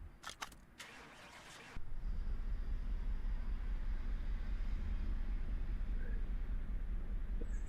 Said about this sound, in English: You hear that brand new quiet engine?